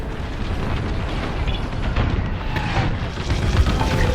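In the Star Wars Squadrons space combat game, a thermal system explodes as a dense, rumbling blast that stays loud for the whole few seconds, with crackling debris and low booms rolling on.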